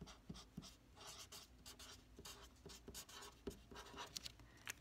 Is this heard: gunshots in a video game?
no